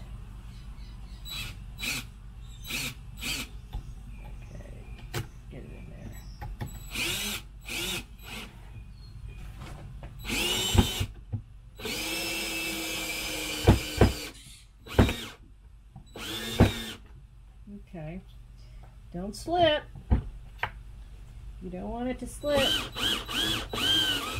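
A cordless drill countersinks screws into wood while building a makeshift scaffold, whirring in short and longer bursts that stop and start with gaps, alongside speech and a few knocks.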